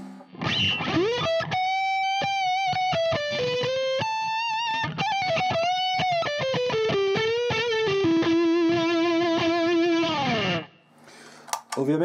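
Electric guitar run through a Masotti OD Box distortion pedal pushed hard, playing sustained, bending single notes and a run of picked notes for about ten seconds, loud and close, with no talking.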